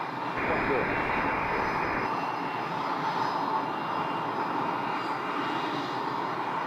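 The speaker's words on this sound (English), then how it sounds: "Another Cessna Citation right there." A Cessna Citation business jet lands on runway 21 at Scottsdale, heard as a steady distant engine roar with a faint whine, while a radio voice talks briefly near the start.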